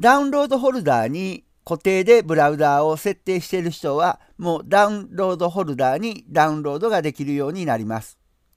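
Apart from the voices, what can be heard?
No everyday noises stand out.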